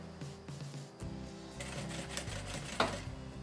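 A sewing machine stitches fabric for a toothbrush hygiene kit, its needle motor whirring in steady rapid bursts with brief pauses and small mechanical clicks, close and moderately quiet.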